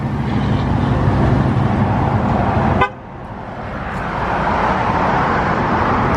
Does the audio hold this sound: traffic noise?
yes